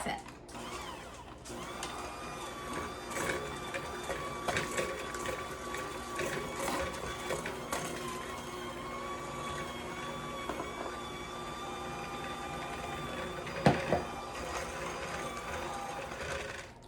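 An electric mixer runs on low speed, beating powdered sugar into buttercream with a steady, whirring motor hum and some rattling, and it keeps going for the whole stretch with a brief clatter near the end.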